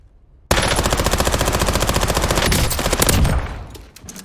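Rapid automatic gunfire from a 9mm weapon on a firing range in the Warzone video game, a loud sustained burst of evenly spaced shots lasting about three seconds before trailing off.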